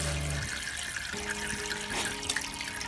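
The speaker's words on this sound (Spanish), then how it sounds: "y ahora vamos a poner el agua caliente." Hot water runs steadily from a plumbing tap, a continuous rushing hiss with small shifts in flow, close and moderately loud with no talk.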